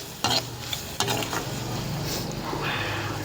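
Onions sautéing in a pan for Madras chicken gravy, a loud, close sizzle with busy stirring scrapes and a couple of spoon knocks.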